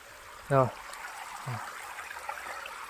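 Cold water runs steadily along an irrigation channel on a farm, a soft continuous flow with a short voice-like sound near the start.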